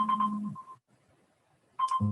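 A mobile phone rings nearby in two bursts of a steady electronic ringtone, with a short quiet gap between them and no one speaking.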